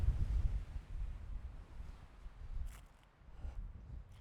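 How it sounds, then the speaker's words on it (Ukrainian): Gusty mountain wind near Lake Tahoe buffets the microphone in low, rumbling surges that rise and fall, with brief quieter lulls between the blasts. "Ой, божечки, добре тут вітер кидає."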